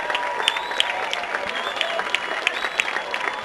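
A stadium crowd at a state high school track championship applauds the 800 m winner, sustained clapping with sharper claps standing out, heard from a distance without talk.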